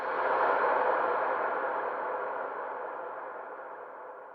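Eerie Minecraft cave ambience from the video game: a steady, hollow, airy rumble that swells early, then slowly fades over a few seconds, with no voices.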